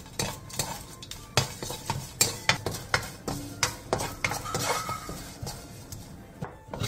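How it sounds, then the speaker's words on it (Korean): Dried, peeled anchovies tossed in a dry pan over high heat, with a utensil scraping and clinking against the metal in quick irregular strokes, close and crisp, with a faint dry rattle between hits. "마른 팬에 깐멸치 한 컵을 넣고 센 불에서 2분에서 3분간"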